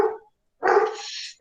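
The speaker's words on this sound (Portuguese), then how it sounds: "a cachorrada vai latir agora" Dogs bark nearby: one short bark, a brief pause, then a longer loud bark trailing into a high whine, with another bark starting at the end.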